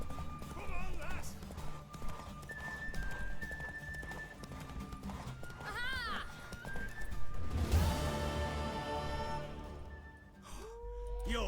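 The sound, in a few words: horse galloping in the video game Witcher 3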